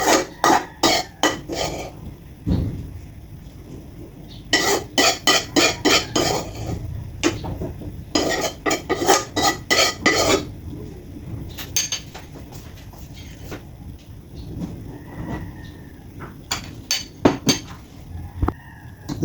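Filipino garlic fried rice (sinangag) being cooked in a pan, with bursts of rapid metal spatula scraping and clinking in rhythmic runs, pausing between bouts, close and fairly loud with no talk.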